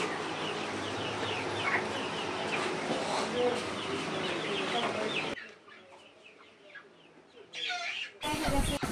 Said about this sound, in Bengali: আমরা দেখতে পাচ্ছি আতিক ভাই কিন্তু সুন্দর একটা মুরগি ধরে আনলো।